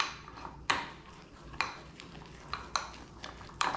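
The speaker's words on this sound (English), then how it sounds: "And stir it up." A spoon stirring powder into protein yogurt in a bowl, with four or five sharp clinks against the side over soft, thick mixing sounds, close and quiet.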